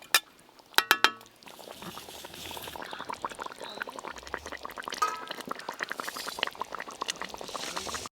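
Katla fish gravy bubbling in a pot on a rural stove, a soft continuous simmering crackle after a few sharp metallic clinks at the start.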